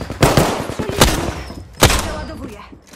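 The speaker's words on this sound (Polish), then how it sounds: "Jestem pod strzałem." Gunfire in the Apex Legends video game, with three sharp loud bursts of shots spaced about a second apart, each trailing into a rumbling echo amid other battle noise.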